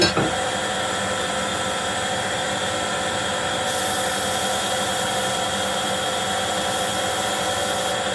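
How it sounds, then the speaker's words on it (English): Power sanding a wooden mallet: a continuous broadband whooshing whir at moderate level, steady throughout with a slight brightening partway in. "Now we're ready for sanding."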